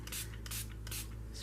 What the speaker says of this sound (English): you spray it